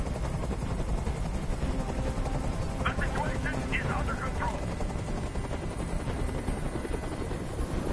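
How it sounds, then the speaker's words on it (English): A hovering helicopter in the video game Detroit: Become Human drones as a constant loud rotor wash throughout, with a voice speaking briefly over it. "Tell that helicopter to get out of here."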